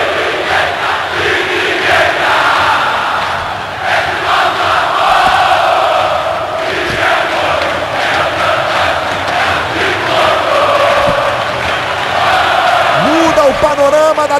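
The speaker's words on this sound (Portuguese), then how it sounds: "Levanta a torcida alvinegra." Botafogo supporters roaring in the stadium during the 2008 Carioca championship final against Flamengo, a dense, loud, continuous wall of crowd noise with chanting swells.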